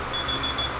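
An alarm sounds inside the video game State of Decay 2: a steady, high electronic beeping tone that repeats in quick pulses over a low background hum, brief and fairly clear.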